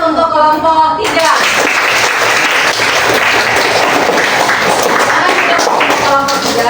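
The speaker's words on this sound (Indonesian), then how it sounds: "berikan aplaus untuk kelompok 3" A classroom of students breaks into loud, sustained applause for a presenting group. The dense clapping starts right after a teacher speaks and carries on for several seconds, with a voice briefly heard at the end.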